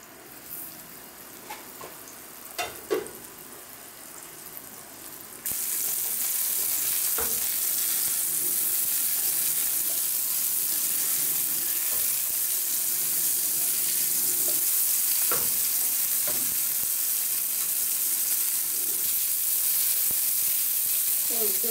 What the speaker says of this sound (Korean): 껍질 있었던 부분을 먼저 아래쪽으로 해서 노릇노릇하게 지져주시면 됩니다